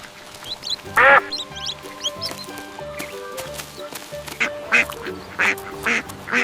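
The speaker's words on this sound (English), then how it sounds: "Baby ducks are called ducklings." Ducks quack in a scattered series of sharp, close calls over a light, rhythmic musical backing.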